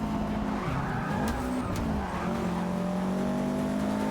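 Race car in the video game Forza Motorsport 6 sliding under the handbrake: a loud, continuous engine drone with wavering pitch and tire screech throughout, with no talking.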